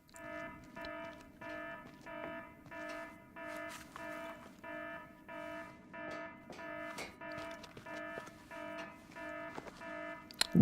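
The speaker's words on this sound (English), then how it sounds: "This alarm always sounded familiar." An alarm from the Splinter Cell: Chaos Theory video game sounds as a steady, repeating electronic tone pattern, pulsing in regular bursts for about ten seconds with no talk over it.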